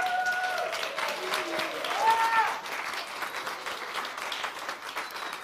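A church congregation applauds warmly for several seconds, the clapping fairly close and steady, with a few voices and a faint tonal sound blended in before it eases slightly.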